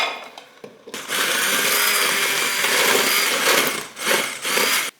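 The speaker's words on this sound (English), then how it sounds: "I'm going to do the immersion blender right now" An immersion blender whirs loudly and steadily after a quiet start, briefly dipping and surging near the end before cutting off abruptly.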